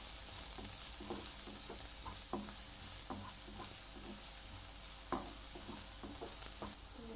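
Cinnamon, cloves, dried pepper and chopped onion sizzle in hot oil in a pan for spicy mutton chukka, a steady close crackle with scattered small pops.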